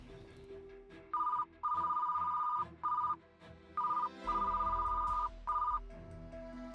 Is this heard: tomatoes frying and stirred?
no